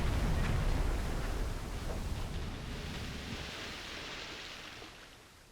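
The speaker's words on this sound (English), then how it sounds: "Torpedo impact." A torpedo strikes a ship in the submarine game Silent Hunter 5, heard as a loud, sustained rumbling roar with a wash of surf-like noise that slowly fades over several seconds.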